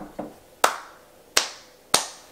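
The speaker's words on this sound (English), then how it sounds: "can we get a slow clap" Four sharp, separate claps at a slow, uneven pace, each ringing briefly in a room, with no voices.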